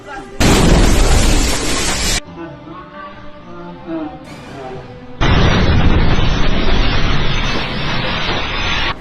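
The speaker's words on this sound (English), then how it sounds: "The moment when a Russian missile struck a hospital in Ukraine during a surgical procedure." A Russian missile strikes a Ukrainian hospital during surgery: a sudden roaring blast of broadband noise, a quieter stretch with shouting voices and ringing tones, then a second long, loud rumble of debris and noise.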